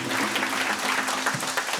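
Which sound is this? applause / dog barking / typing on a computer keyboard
applause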